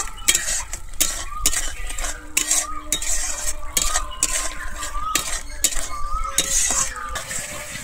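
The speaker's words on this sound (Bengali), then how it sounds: "চিনিটা দিয়ে আবারও খুব ভালোভাবে আমি এখানে মিশিয়ে নেব" Sugar being stirred into a yogurt-based raw jackfruit kofta curry masala, a spoon scraping and clinking steadily against the pan with a faint sizzle underneath, close and fairly loud, no voices.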